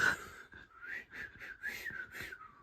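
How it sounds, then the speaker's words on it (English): A person whistles a wavering, halting tune in a series of short rising and falling notes, fairly close and soft. "I can't whistle on demand, apparently."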